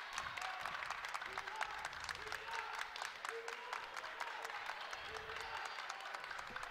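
A home crowd claps steadily and rhythmically in a gym during a high school boys varsity basketball game, Hamilton against Lakota East. Commentators talk quietly over the clapping.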